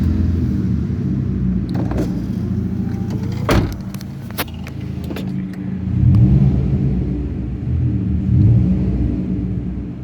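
A Ford Fiesta Mk6 fitted with a Sportex exhaust idles with a deep, loud rumble in an underground car park, the booming tone swelling in a couple of revs over a few seconds, with sharp clicks and knocks partway through.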